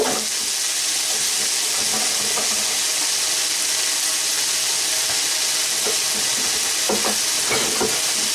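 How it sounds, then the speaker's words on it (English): Onions fry in a hot pan as a base for meatballs, filling the scene with a loud, continuous, close sizzle and faint stirring clicks underneath. "So I'm going to put the onions in."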